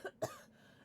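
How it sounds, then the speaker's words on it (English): Two short, sharp coughs land close on a microphone during a Twitch livestream, followed by a quiet fade. "Sorry, I just coughed right in the microphone."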